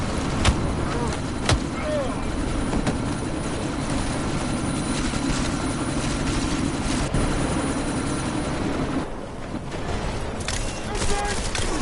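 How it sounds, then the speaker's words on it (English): A helicopter in the video game Deus Ex: Mankind Divided during a sandstorm, giving a steady loud rotor drone with sharp bursts that sound like gunfire, under game noise, dropping out briefly near the end. "you need to disable that chopper."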